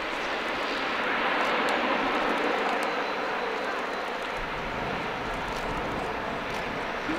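Airbus A400M military transport aircraft making a slow-speed climb-out at an airshow, a steady loud broadband engine roar held throughout with little change in level.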